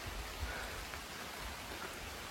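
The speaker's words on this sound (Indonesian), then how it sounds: "Hujan juga sih." Rain falls steadily on a foggy mountain trail near Puncak Lumut, Sukamakmur, a soft continuous hiss heard faintly with no talking.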